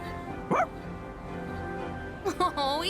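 A dog in the Persona 3 Reload video game gives two short, bright barks, one early and one near the end, over a quiet background music bed.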